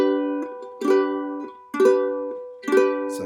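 A ukulele chord is strummed four times at a slow, even pace, each bright strum ringing and fading before the next, close and fairly quiet with no talking.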